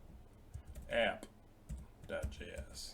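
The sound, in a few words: typing on a computer keyboard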